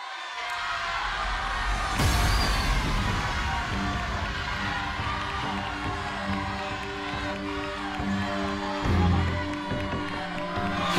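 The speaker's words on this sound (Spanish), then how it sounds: "Aplausos" A studio audience at a televised music battle judged by Álex Lora applauds and cheers loudly, a steady wash of clapping and shouts with music playing underneath.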